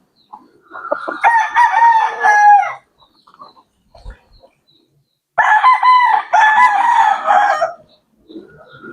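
Gamecock, a fighting rooster kept for cockfighting, crows loudly and close by twice, each crow lasting about two seconds with a quiet pause between, and a few faint clucks follow.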